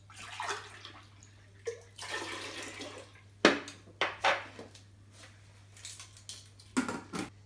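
Water is poured into a pot over moong dal, in several separate splashing pours with pauses between, fairly close and quiet, with no talking.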